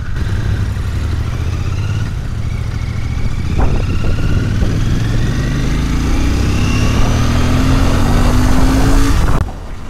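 A Royal Enfield Bear 650's 648cc parallel-twin engine running loud and close, its pitch climbing and easing as the throttle is revved, then cutting off abruptly near the end.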